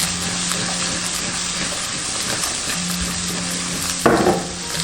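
Pickled vegetables stir-fry over high heat, a steady close sizzle broken by spatula scrapes, ending in a louder burst of hissing and clatter near the finish, with no talking.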